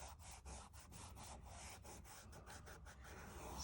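Charcoal or graphite drawing rubbed down on paper, a quiet, rhythmic rapid back-and-forth scrubbing of roughly a dozen strokes, close and alone without voices.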